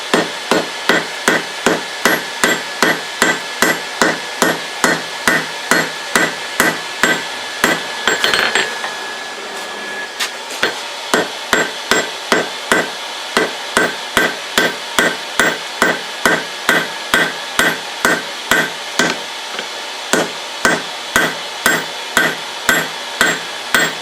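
Hammer strikes on a Damascus steel billet at forge welding heat, a steady rapid train of loud ringing blows with a brief pause partway through before the hammering resumes at the same pace.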